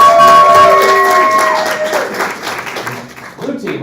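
A theatre audience applauding for the red team, a dense burst of clapping and crowd noise that fades over a few seconds, with a voice heard over it.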